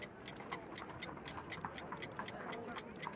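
Ticking homemade time bomb with an alarm-clock bell and hammer in Sherlock Holmes: The Devil's Daughter, a steady, even tick repeating a few times per second, close and crisp over a low hum.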